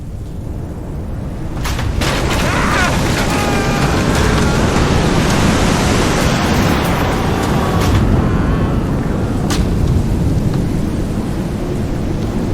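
A roaring storm at sea with crashing waves and howling wind swells in after a moment and then rumbles on loud and dense, with no break.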